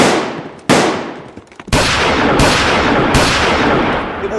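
Gunfire in a western-style movie trailer shootout: four loud, booming shots at irregular intervals, each with a long reverberant tail that rings on under the next.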